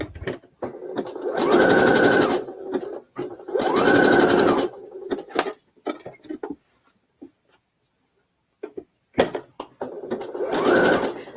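A free-arm sewing machine stitches around the sleeve of a thrifted lace dress. It runs in three close, loud bursts of rapid whirring stitching separated by quiet gaps with faint fabric handling.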